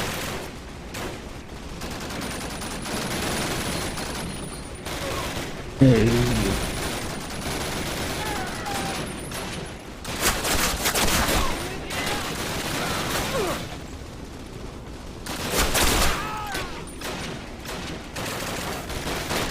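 Battlefield gunfire in the original Call of Duty crackles in scattered volleys and single shots, some near and some distant, mixed with shouted commands and ambient war noise.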